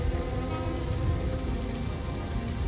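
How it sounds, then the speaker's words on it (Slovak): Rain falling steadily on a surface as a dense, even hiss of drops, close and constant throughout with no voices. "A dážď spieva im kvapkami uspávanku do uší."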